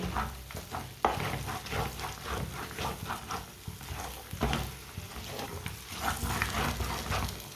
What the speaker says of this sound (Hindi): इसे 3-4 मिनट के लिए और पका लेना है, इसी तरह चम्मच चलाते हुए।